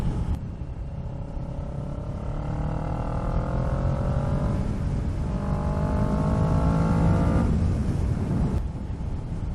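A motorcycle fitted with an Akrapovic exhaust revs and accelerates on its first ride, engine note climbing in rising sweeps, dropping briefly, then climbing again before cutting off, heard close and fairly loud over road noise.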